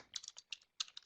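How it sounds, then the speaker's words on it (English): Bursts of computer keyboard typing in short clusters of keystrokes separated by brief pauses, close and fairly quiet, with no talking. "I'm typing that in on the chat pod."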